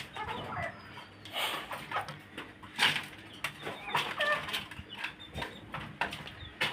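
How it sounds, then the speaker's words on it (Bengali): A rooster on a small home farm clucks in short bursts among other fowl, fairly faint and scattered across the clip, with no one speaking. "ওর মতন একটা মোরগ আমি এখনো বাজারে পাইনি"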